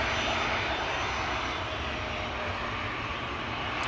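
Jet engines of airliners at Amsterdam Schiphol Airport, including a Ryanair Boeing 737-800 heading for the runway, roar in a loud, steady, broadband rumble with no voices.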